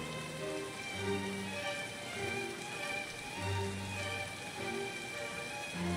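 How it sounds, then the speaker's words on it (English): Steady rain falling in the video game Escape from Tarkov, a constant hiss of drops on surfaces with faint low rumbles mixed in beneath it. "The rain's covering up a lot of sounds"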